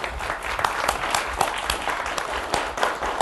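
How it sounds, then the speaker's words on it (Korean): At a university president's inauguration service, the audience claps in congratulation, a full, lively burst of many hands with crisp individual claps, loud and steady throughout with no talking. "축하의 박수를 부탁드리겠습니다."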